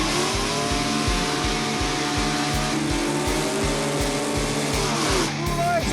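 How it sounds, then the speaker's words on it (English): Loud, close engine roar from a '65 Mustang with small block Ford power and a big block Chevy at a drag strip, a steady pulsing rumble with rising revs that holds throughout, crowd voices faint underneath. "65 Mustang, small block Ford power, big block Chevy power"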